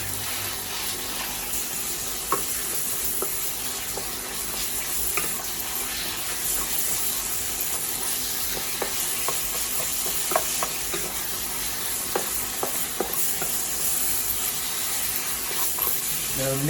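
Minced meat for Mapo tofu sizzling and being stirred in a hot pan, with a steady close frying hiss and scattered scrapes and clicks of the utensil throughout.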